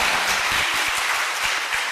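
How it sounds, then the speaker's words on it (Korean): A church congregation claps together in a short burst of dense applause, close and fairly loud, with some individual claps standing out as it trails off. "우리 박수로 하나님 영광 한번 돌립시다."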